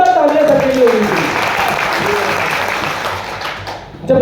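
Audience applause at a coaching class in Kishanganj, filling the clip with steady, loud clapping that starts under a voice and carries on alone to the end.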